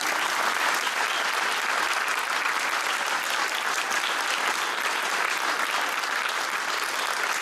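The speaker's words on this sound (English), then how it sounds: "would like to stand to receive their applause from you this evening." Sustained audience applause at a fifth grade spring school concert, steady dense clapping from a crowd lasting several seconds without a break.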